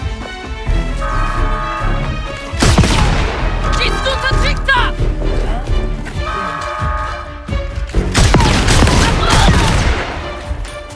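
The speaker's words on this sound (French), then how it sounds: "Explosion." Star Wars Outlaws game explosions and gunfire: loud bursts of blasts and crashing booms layered over a dense, continuous game soundscape, with two big broadband hits standing out.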